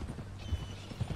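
Hooves of a horse in Red Dead Redemption 2, faint slow clip-clop steps under a low ambient hum.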